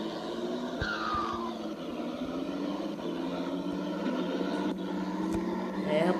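A modded Ford Torino 2014 with a turbo roars steadily in a racing video game, the engine drone holding close and loud throughout with brief whooshes and a rising whine near the start.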